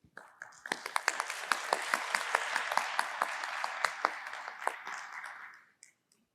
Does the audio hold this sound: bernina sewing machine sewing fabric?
no